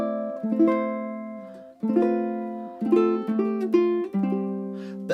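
Ukulele playing a song as chord soloing with a chord on every beat, bright strummed chords in a steady pulse, close and clean with no talking.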